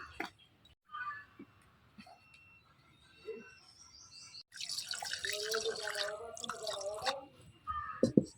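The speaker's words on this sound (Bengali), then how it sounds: "পাঙ্কাশ মাছটা আমি গরম জলটা ভালো করে দিয়ে নিই" Hot water is poured over pangas fish to wash it. After a few quiet drips, a splashing pour runs for a few seconds and ends in trickles, with faint bird chirps in the background.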